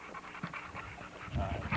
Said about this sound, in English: Trick Daddy is about a 90-pound stud dog.